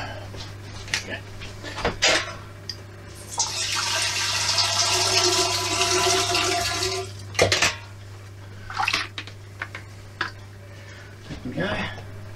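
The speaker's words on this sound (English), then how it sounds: "I'll just tip out the water so I can get hold of the extract." Water used to warm a can of homebrew beer malt extract pours out of a pot in a sustained splashing rush, followed by clanks and knocks of cookware being set down and handled.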